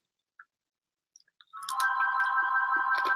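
A house phone ringing with a steady electronic tone that comes in after a few small clicks and carries on continuously, close and clear, with no talking over it.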